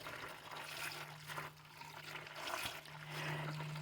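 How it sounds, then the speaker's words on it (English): Rainwater splashes and trickles steadily while dishes are washed by hand at home during evening chores, a low hum running underneath, with no voices. "This water that I'm using for the dishes is actually rainwater that I've collected."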